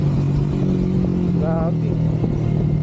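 A Yamaha Sniper 155 motorcycle engine idles with a steady low drone and then gives a brief rev in the middle, close and fairly loud, with clattering mechanical noise around it.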